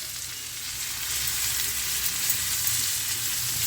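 Bitter gourd frying in a pan with salt, chili powder and turmeric, a dense, even sizzle that swells slightly after the first second and holds steady close up, with no speech.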